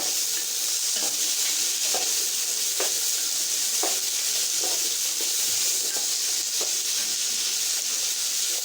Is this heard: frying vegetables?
yes